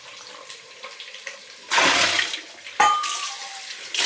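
Tap water runs into a vessel in two bursts, a sharp rushing splash followed by a second gush, close and fairly loud over a quiet kitchen background.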